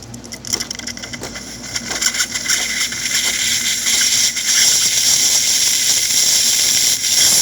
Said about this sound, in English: I'm going to check the steam.